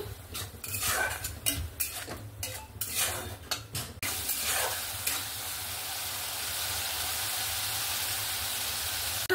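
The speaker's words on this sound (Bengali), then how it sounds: "এবার ভালো করে মিক্স করে নেব।" A utensil stirs and scrapes fish coated in turmeric, chili powder, cumin and salt in a pan, with rapid clinking strokes at first, then a steady soft sizzle, close and clear.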